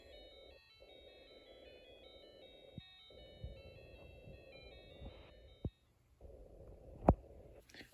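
A Snap Circuits Extreme SC-750 alarm integrated circuit plays an electronic song: bright, buzzy beeping notes stepping through a simple melody for about five seconds, then breaking off, with a few sharp clicks near the end.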